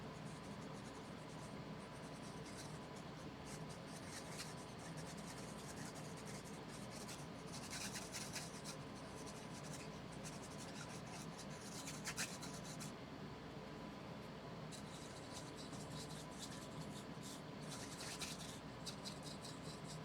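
A brush loaded with black acrylic paint is dry-brushed onto canvas in a fall grass painting, making faint, close, scratchy rubbing strokes that come in repeated bursts against a quiet room hum.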